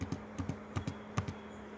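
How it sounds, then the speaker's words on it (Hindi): Fingers tap on a computer keyboard in an irregular, quiet run of clicks, about a dozen keystrokes in under two seconds, with no voices. "ये टक टक की कीबोर्ड पर टाइप करती उंगलियां"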